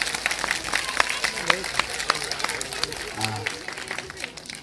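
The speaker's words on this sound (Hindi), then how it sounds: "आप इनके लिए जोरदार ताली बजाओ" An audience at a Bhagavat religious gathering in Greater Noida claps for a married couple, sharp scattered claps running under a man's ongoing speech.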